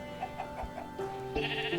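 A sheep in a modded video game bleats in short, wavering calls, clear and close with no talk over it.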